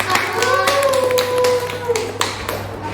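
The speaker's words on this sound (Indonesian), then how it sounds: "Boleh tepuk tangan dulu dong." Students in a group counseling session clap together, a sparse, uneven run of individual claps over a steady low hum, with voices talking faintly underneath.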